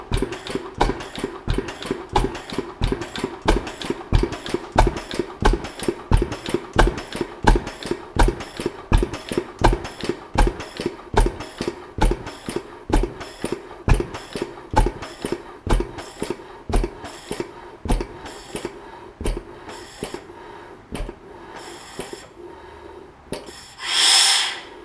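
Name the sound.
vintage 20 horsepower stationary engine running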